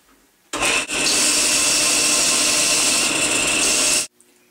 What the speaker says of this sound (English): and now I'm going to sand these.